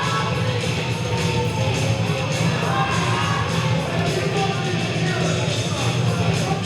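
A wrestling crowd cheers and shouts for Sergeant Fury's entrance, a dense, continuous roar of many voices with high children's shouts mixed in, loud and sustained throughout.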